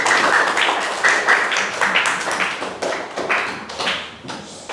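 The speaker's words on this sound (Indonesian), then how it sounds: "Yuk, berikan aplaus untuk kelompok" A group of students and classmates in a school classroom applaud together, a dense patter of claps that stays steady and then tapers off toward the end.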